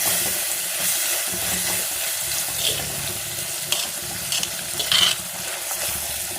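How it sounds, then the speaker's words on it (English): Green chilies and marinated country chicken sautéing in a claypot give a steady, close hiss of frying, with a few brief scrapes and clinks of a utensil near the end and no voices. "Saute it nicely."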